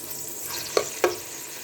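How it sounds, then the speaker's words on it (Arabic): Two spoonfuls of garlic with red chili frying in oil, a low steady sizzle with two short louder crackles as the pan is stirred. "حطينا معلقتين توم على شوية شطة حمراء زي ما انتم شايفين كده"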